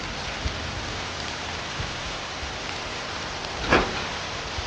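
Heavy rain pours down in a steady, dense hiss, with one brief louder splash or rustle near the end and no voices.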